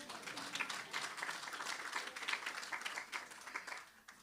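Another round of applause rises from an audience at an L&T Week gathering, a moderately loud wash of many hands clapping that holds steady before easing slightly at the end.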